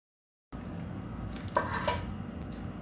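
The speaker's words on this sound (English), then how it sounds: "put the lid and shake it up" A lidded cup of marshmallow brown butter iced latte being shaken, a steady rattling churn of ice against the container with a couple of louder knocks, close and without talk.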